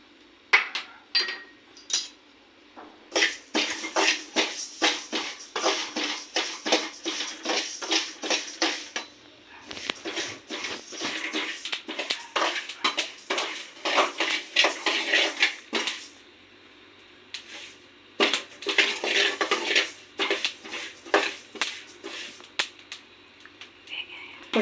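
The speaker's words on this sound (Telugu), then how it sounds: "ఇప్పుడైతే ఫ్లాక్స్ సీడ్స్ అయితే ఫ్రై చేసుకుందాం." Flax seeds dry roast in a pan while a spoon scrapes and rattles them around in rapid bursts of dense clinking and scratching, with brief pauses between bursts.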